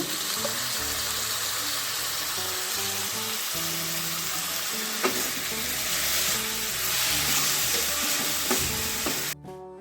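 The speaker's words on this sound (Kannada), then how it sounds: "ಕಟ್ ಮಾಡ್ಕೊಂಡಿರೋ ಒಂದು ಹಸಿರು ಮೆಣಸು ಹಾಕೊಳ್ಳೋಣ ಮತ್ತು ಟೊಮೆಟೊ ಹಾಕೊಳ್ಳೋಣ ಚೆನ್ನಾಗಿ ಫ್ರೈ ಮಾಡ್ಕೊಳ್ಳೋಣ" Green chili and tomato frying in a pan for a chicken liver fry, a steady close sizzle with stirring scrapes throughout, no talk.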